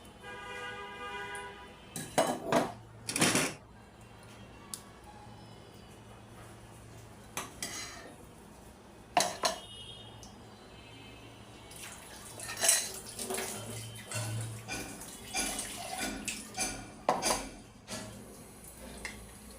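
Dishes and a blender jar being washed at a sink after blending ripe mango, with running tap water, clinks and clatters of pots and utensils coming in bursts at close range.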